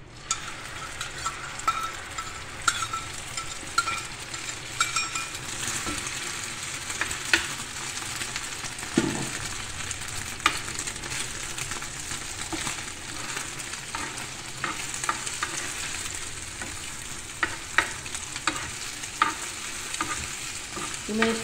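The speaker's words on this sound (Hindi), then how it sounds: "एक प्याज ली मैंने, एक हरी मिर्ची ली, ठीक है, थोड़ा सा नमक डाला और एक अंडा है, ये प्याज वाला बना रही हूँ" An egg frying with chopped onion, green chili and salt in a pan, a continuous loud close sizzle with scattered crackles and stirring scrapes, no talk.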